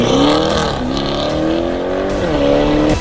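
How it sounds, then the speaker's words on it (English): A 2021 Audi RS6 with in-house custom downpipes, a full custom exhaust with titanium tips and two resonators revs loudly up close, with repeated throttle blips and a strong sustained engine note. "So here we have this 2021 RS6 custom downpipes made in-house and a full custom exhaust all the way back."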